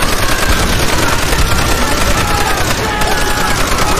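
Sustained machine gun fire in Call of Duty: World at War rattles on continuously, dense and close, with no pauses across the whole burst.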